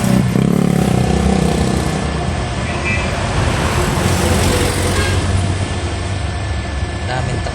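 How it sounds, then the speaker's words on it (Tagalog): Steady dense roar of heavy trucks and mixed vehicles on the SLEX expressway, heard loud and continuous from close by, with a faint voice underneath. "Daming truck talaga dito eh, no?"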